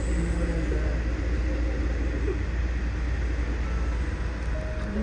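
Steady rumbling passenger train interior noise in the Sierra Nevada, a constant low roar with a faint hiss, continuous and even throughout.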